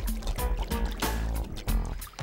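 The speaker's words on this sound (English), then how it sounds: "All this splashing around is making me feel otterish" An otter splashing around in water: churning, sloshing splashes and watery gurgles, continuous and close, with a heavier surge partway through.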